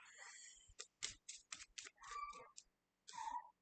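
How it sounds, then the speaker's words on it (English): A deck of playing cards is shuffled by hand during a card trick: a quiet run of crisp, papery riffles and taps in short separate bursts, close up, with no talking. "to shuffle it a little bit like this"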